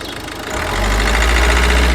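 Ford Focus TDCi diesel engine idling with a misfire, a steady close low rumble that swells after the first half-second and holds uneven and loud with no talk over it.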